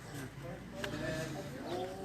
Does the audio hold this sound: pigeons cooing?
yes